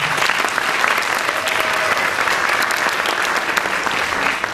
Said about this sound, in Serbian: I jedan veliki aplauz za Vezijaka Viktora, direktora biblioteke.